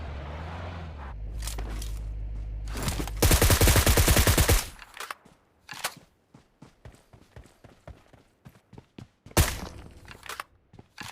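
Gunfire in the battle-royale game PUBG Mobile: a dense burst of rapid automatic shots runs for about two seconds, then scattered single shots and footstep-like clatter follow, with one more loud report near the end.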